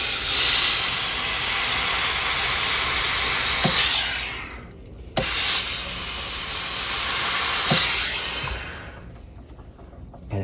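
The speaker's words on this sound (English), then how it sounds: "So now we're going to start pressing." A steam iron presses a sewn sleeve on a sleeve board, letting out two long, loud bursts of steam hiss, each fading away, with a sharp click between them and no talking.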